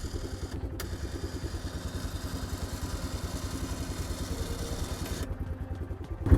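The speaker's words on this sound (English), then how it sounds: "If we re-engage it, we can use the winch motor to pull it back in." A Superwinch LT3000 winch motor on a 2006 Yamaha Kodiak ATV reels its cable back in with a close, steady, buzzing motor drone that pulses rapidly and evenly, rising slightly at the end.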